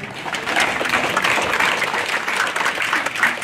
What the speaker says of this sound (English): let's give your family